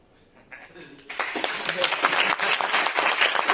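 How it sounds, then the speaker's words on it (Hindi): An audience bursts into loud, sustained clapping in a hall, building after a quiet start and continuing steadily to the end. "ताली अभी बजाने की जरूरत नहीं है"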